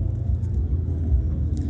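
A Mazda RX7 with a large streetport 12A rotary engine and Holley Sniper EFI, heard from inside during a ride, gives a steady low rumbling drone, moderately loud and even throughout the short stretch.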